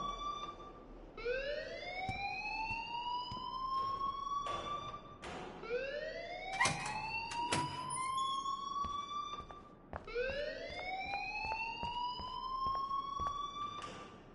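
Alarm wailing in the video game Life is Strange, a rising siren-like tone repeating in three long sweeping cycles, steady and moderately loud with no talk.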